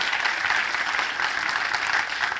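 A church congregation breaks into loud, sustained applause, the dense clapping swelling and easing in waves for a couple of seconds with no speech over it.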